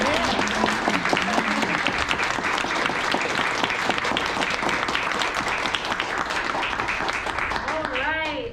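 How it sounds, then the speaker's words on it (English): Sustained audience applause fills a school play-reading event, dense and steady from start to finish, with a voice speaking over the clapping. "Let's do one more round of applause for Jontae."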